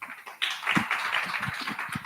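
Light, scattered clapping from a small arts-salon audience, thin and unenthusiastic, a few hands patting unevenly for about two seconds with no voices over it.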